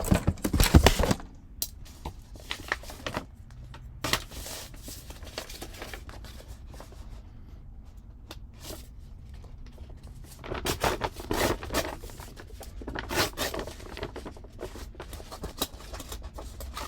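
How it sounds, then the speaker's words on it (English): Paper torn by hand, bursts of ripping and crinkling separated by quieter handling noise, close and fairly faint. "so I will tear it"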